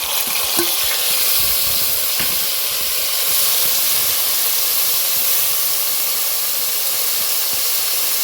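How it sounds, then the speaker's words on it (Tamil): Tomatoes sizzle in a pan with softened onions and garlic for a Tamil dry fish curry. A loud, steady frying hiss runs throughout, with a few light stirring clicks and no talking. "இப்போ நம்ம தக்காளியை ஆட் பண்ணிக்கலாம்."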